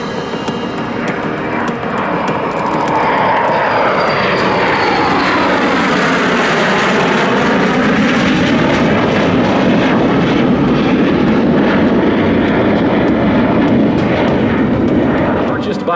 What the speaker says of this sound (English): Again from the right, here comes Cutter and the Super Sabre.